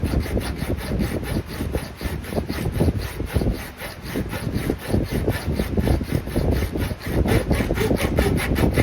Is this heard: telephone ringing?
no